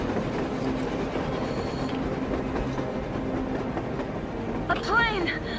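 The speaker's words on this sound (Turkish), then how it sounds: "damn train on the surface!" A train rolls past on the surface in Metro Exodus with a continuous rumbling, clattering wash and a brief squeal of wheels near the end, while voices talk over it.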